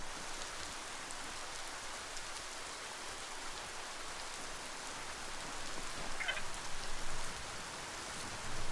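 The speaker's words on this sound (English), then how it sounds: "Hope you enjoy the rain." Steady rain falling in the video game Biomutant, a continuous broadband hiss of drops on surfaces throughout, even and moderately loud, with a brief faint chirp partway through.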